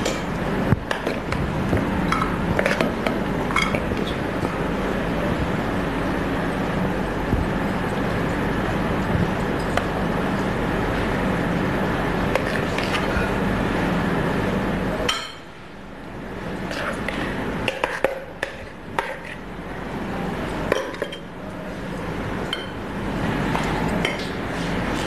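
Mixed garden salad with red and green grapes tipped from a mixing bowl into a serving bowl, scraping and clinking of utensils against dishes, continuous at first, then quieter with a few sharp clinks.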